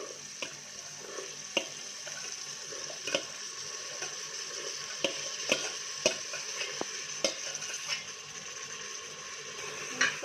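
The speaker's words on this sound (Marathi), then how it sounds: "चांगलं हलवून घ्यायचं" A spoon scrapes and clinks against a pan while soaked kabuli chickpeas are stirred into masala for chole, with sharp intermittent taps over a low background sizzle.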